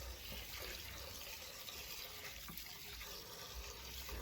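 Neem leaves being rinsed in water, with a steady close splashing and running-water wash that continues throughout without pause.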